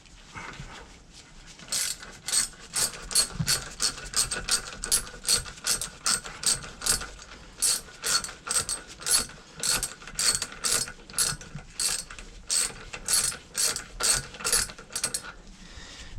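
Ratchet spanner loosening a nut on a Mercruiser Alpha Gen 1 outdrive, a long close run of rhythmic clicking strokes, each burst of pawl clicks pausing briefly before the next, with no talk.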